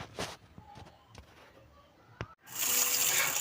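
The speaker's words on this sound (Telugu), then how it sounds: "వీడియోలో చూపిస్తున్నట్టు మినప్పప్పుని 2-3 సార్లు కడుక్కోవాలి." Urad dal lentils being washed in water in a kitchen, with a short splash early on and then a steady loud gush of running water filling the last second.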